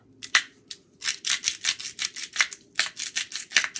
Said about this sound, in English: give that grind in there